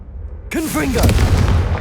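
A Confringo blasting spell in Hogwarts Legacy: a spoken incantation followed by a sudden loud burst and a rolling boom that fills the last second.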